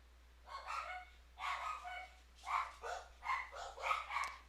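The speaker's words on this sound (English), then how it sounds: "my doggies are barking" Several dogs bark and yip in quick, irregular bursts, fairly close and loud, with short pauses between volleys.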